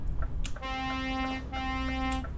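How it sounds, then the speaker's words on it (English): Horn on a truck in Euro Truck Simulator 2, sounding two sustained honks in a row, the first short-lived after a quick tap and the second longer, fairly loud over low engine rumble. "I had to beep at him to get him to go"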